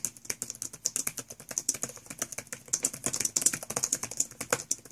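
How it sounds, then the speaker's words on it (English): Fast, steady typing on a Toshiba Satellite S50 laptop keyboard, close up, with crisp clicky keystrokes in quick succession and no talking. "I'm going to let you listen in onto the tactile feedback of the keyboard, how it sounds"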